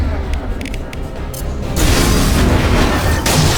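Overloaded cannon canisters blow up in the Mass Effect 2 video game: a dense, roaring blast surge swells abruptly and holds loud to the end, after earlier rumbling thumps.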